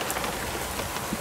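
Water drops falling from trees outdoors in autumn, pattering like light rain in a steady, soft, close patter with no voices.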